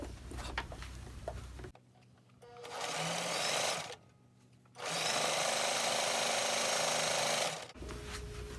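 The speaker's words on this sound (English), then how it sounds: "So back to the sewing machine." A sewing machine stitches a strip onto a quilt block, running in two loud sustained bursts of rapid mechanical whirring separated by brief quiet pauses, close up.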